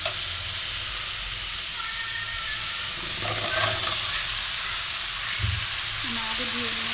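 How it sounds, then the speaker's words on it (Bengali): Spice paste with cumin fries in a pan, a steady loud sizzle and hiss running throughout with occasional stirring scrapes, and a voice speaking briefly over it. "মশলাটা কষানো হয়ে গেছে।"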